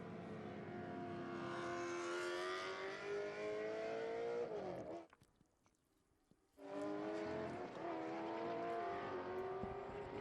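Loud, droning engine roar from inside a race car as it accelerates and shifts on the Sonoma track during a hill climb, cutting out for about a second midway, then resuming at full volume.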